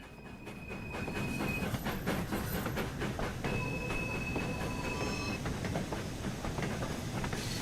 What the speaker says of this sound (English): It is a nice whistle.